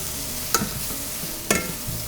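Wild mushrooms sizzle steadily in a pan, with two sharp scrapes of a utensil stirring them roughly a second apart.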